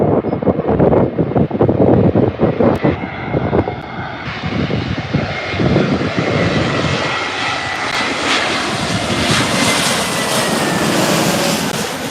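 An Airbus A321 airliner landing at Birmingham airport in gusty wind, a loud, close engine roar that shifts to a rising, whining rush with steady wind buffeting the microphone.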